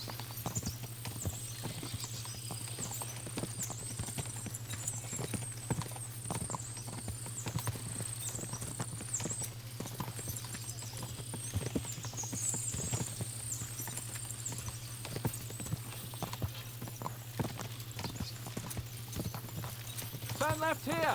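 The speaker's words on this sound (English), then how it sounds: "As soon as we cross the stream, we'll give the horses a gallop again." Galloping horse hooves clip-clop in a steady run in Kingdom Come Deliverance 2, a continuous rhythmic beat over a low steady hum, with occasional faint whinnies and a voice talking over them.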